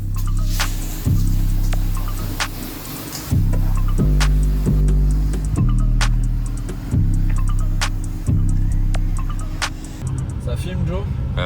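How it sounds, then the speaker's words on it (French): A supercharged Mini John Cooper Works R53 engine warming up gently, idling with a steady low harmonic drone and repeated shifts in pitch, with clicking and people talking nearby over it. "Là, on fait chauffer gentiment le moteur"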